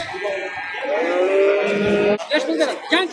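Three-month-old calves at the Oq Tepa livestock market mooing, a long loud call followed by shorter bleating moos close by, with market chatter behind.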